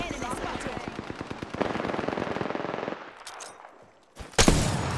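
Enemy gunfire in a video game, rapid machine-gun bursts rattling in fast even strings, then a pause and a loud new burst near the end.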